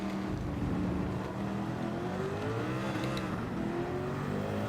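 A Group C racing car in Gran Turismo 7 roars continuously, its engine note rising and falling as the revs change, loud and close with no talk over it.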